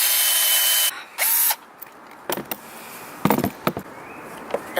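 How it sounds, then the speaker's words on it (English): A power drill boring into wood for a treehouse floor, a loud whine that starts abruptly, then short bursts and knocks of tool handling follow. "You're gonna drill in first?"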